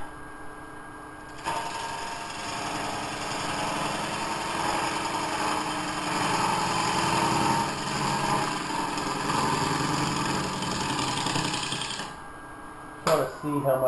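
A wood lathe turns a natural-edge hollow form bowl, giving a steady, fairly loud whirring and scraping drone that runs for about ten seconds before it winds down and stops.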